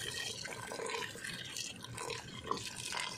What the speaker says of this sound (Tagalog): buhusan na po natin ng tubig